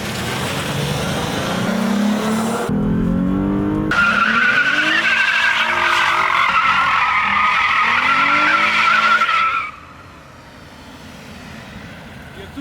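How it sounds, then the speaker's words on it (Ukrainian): A Lexus GS 300 drifts sideways on asphalt, its tires letting out a long loud sustained squeal over the straining engine roar, then fading abruptly to quiet idle near the end. "не втримався не дати боком"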